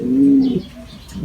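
A racing pigeon gives a loud, close, low cooing call, a single drawn-out coo followed by softer trailing sounds, heard alone without talk.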